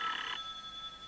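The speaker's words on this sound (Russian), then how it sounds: "человек звонит" An old landline telephone bell rings in a short burst that stops abruptly, leaving quiet room tone with no voices.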